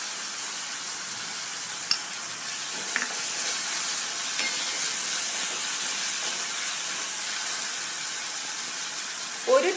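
Ginger garlic paste sizzles steadily in hot oil while being sautéed for dal tadka, a continuous close frying hiss broken by a few soft stirring clicks.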